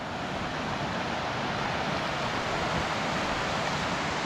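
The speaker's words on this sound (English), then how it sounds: "And this is the Elwha River." Steady, loud broadband rush of the Elwha River flowing near the Madison Creek Falls trailhead, a continuous roar of water with no talk over it.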